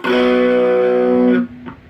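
A single distorted electric guitar chord rings out loud and sustained for over a second, then is cut off abruptly.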